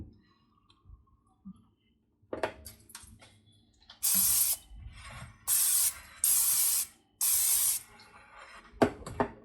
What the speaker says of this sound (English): I'm going to spray it with a little bit of Pam.